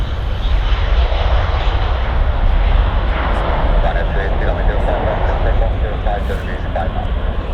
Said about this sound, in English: So no sooner had the wheels left the tarmac, the Ryanair had been given departure clearance.